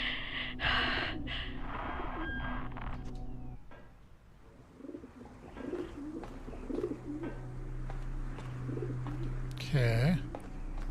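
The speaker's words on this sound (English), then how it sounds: "I was hearing pigeons." Pigeons cooing in The Talos Principle video game, soft repeated coos in the background with low ambient hum, and a person talking over it at times.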